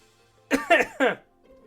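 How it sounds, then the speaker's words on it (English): Two or three quick, harsh coughs in a short burst, close and fairly loud, with quiet before and after. "Pardon me, I do still have this cough."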